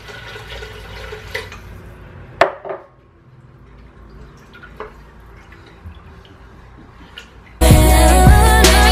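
Water poured into a cooking pot on a stove, scattered drips and clinks at first, then a loud, full rush of pouring liquid near the end.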